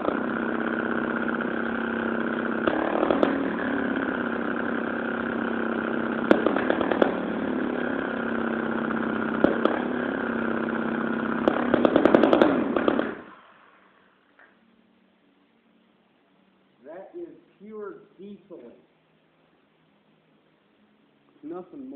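A two-stroke gasoline engine converted to run on diesel idles loudly and steadily, then cuts off abruptly; brief talk follows in the quiet afterward.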